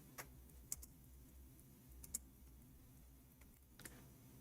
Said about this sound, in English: we are typing in English again